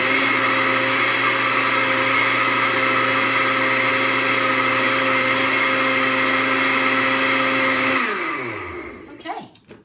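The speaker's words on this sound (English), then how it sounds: "Last time we're going to have to use this blender." A kitchen blender whirs loudly and steadily while mixing bananas and vanilla extract for spinach banana muffin batter, its motor holding a constant pitch for about eight seconds before winding down and stopping.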